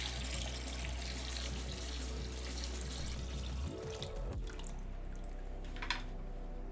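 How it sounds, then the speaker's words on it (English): Water pours steadily from a giant bucket into a toilet built as a water-cooled PC, a loud, continuous rushing splash up close that eases into lighter trickles and drips near the end. "I'm gonna add water by dumping it in with this giant bucket"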